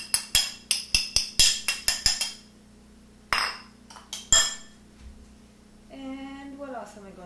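A spoon clinks against a bowl while grated ginger goes into a raw superfood soup: a quick run of about ten bright metallic taps, then two more isolated clinks, close and clear.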